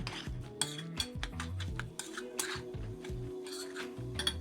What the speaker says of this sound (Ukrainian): Все гарно перемішую.